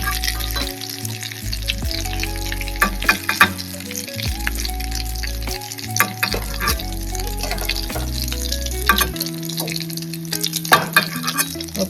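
Mutton sizzles slowly in hot oil in a pan, a continuous crackling fry with occasional stirring clinks, close and steady throughout with no voices.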